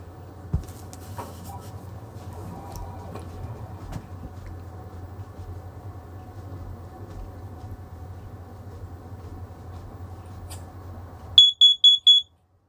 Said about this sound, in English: You have started a test of this alarm. This test will be loud.